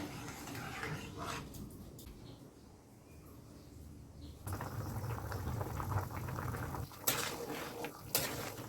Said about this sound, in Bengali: তরকারি ফুটে উঠেছে